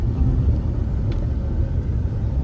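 A steady, loud low rumble from an off-road vehicle held in first gear on rough ground, close and constant with no break and no voices.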